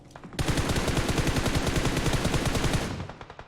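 Rapid automatic gunfire from a PUBG Mobile match: a dense, loud, evenly spaced burst of roughly thirty shots lasting about two and a half seconds, then cutting off.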